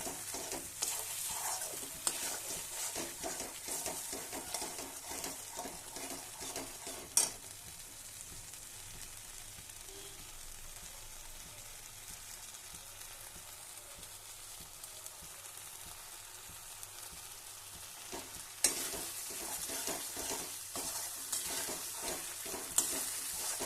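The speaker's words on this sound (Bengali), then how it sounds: "মশলার সঙ্গে চিনিটা একটু মাখানো হয়ে যাক।" Spices and sugar being stirred in a frying pan for a cauliflower roast, a continuous soft sizzle with scraping spatula strokes, and sharp clinks against the pan near the start and end.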